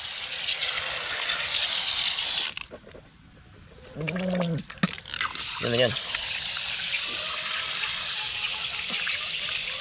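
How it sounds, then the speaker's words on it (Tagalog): Cold water gushes steadily from a tap, broken by a brief drop-off and resumption, with a voice talking over the flow at close range. "Grabe ang lamig talaga ng tubig dito."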